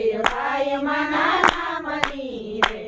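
People clap hands along with a Gujarati devotional song: four sharp, spaced claps land over sustained singing voices.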